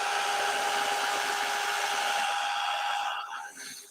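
A heat gun or blow dryer runs steadily on a paper craft project, a loud continuous whir with a tonal whine that tails off and sputters near the end.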